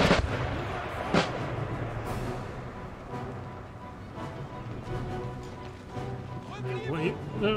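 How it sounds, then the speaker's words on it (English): Howitzer and cannon shells firing in the video game Empire Total War, a steady roar of artillery booms and crackling impacts with one sharp blast standing out, under continuous talk. "Howitzer shells coming in."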